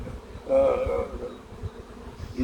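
Honeybees humming at a hive, a steady insect buzz that swells early on and then holds at a moderate, close level, with no talk over it.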